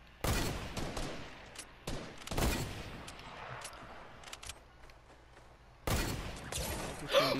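Gunfire from a first-person shooter game rings out in several sharp, loud cracks spaced a few seconds apart, with quieter game noise between the shots.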